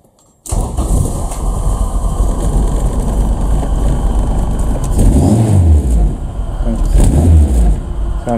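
A Honda Civic EF catches and starts after a short silence, then its engine runs loud and close with a rough idle and two rising revs toward the end.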